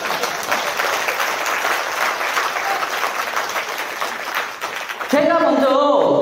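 A seminar audience at Walkerhill breaks into dense, sustained applause that fills the hall for about five seconds, then gives way to a louder voice and tones.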